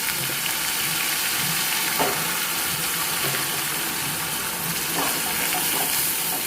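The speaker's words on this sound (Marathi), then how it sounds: "ह्याच्यामध्ये मी जे खोबरं कांदा बारीक केलेलं आहे ते तेलामध्ये सोडून देते" Grated coconut and onion paste frying in hot oil with curry leaves in a pan, a steady close sizzle with occasional soft stirring clinks.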